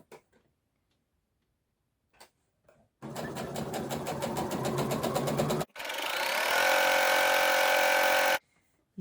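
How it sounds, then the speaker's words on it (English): A sewing machine stitches Christmas fabric bunting in two bursts, first with a rapid, even ticking, then after a brief pause a faster, higher whirring run before stopping; quiet handling noises come before the stitching. "I'm going to take 2 more stitches"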